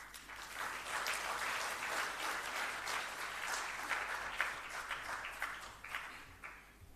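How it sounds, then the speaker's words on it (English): Graduation audience at a public service leadership fellowship ceremony applauds a chairman, a steady rippling wash of many hands clapping at moderate distance, easing slightly near the end. "More round of applause for our chairman, Mr. Emmanuel Ubembe."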